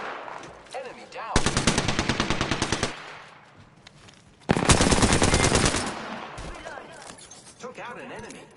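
Video game gunfire crackles in two rapid automatic bursts, each lasting a second or more, loud and close amid low background game sounds and faint voices.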